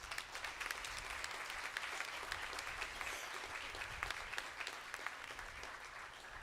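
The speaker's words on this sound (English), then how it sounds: "let's give them a round of applause" Audience applause at a school board of education meeting, honoring the softball team for back-to-back division championships; steady, dense clapping from a room of people fills the whole stretch at even volume.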